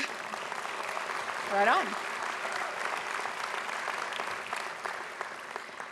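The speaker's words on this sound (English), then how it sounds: "Yeah, you can clap." An audience at a university graduate student commencement applauding, a steady sustained wash of clapping throughout, with a single brief voice calling out near the start.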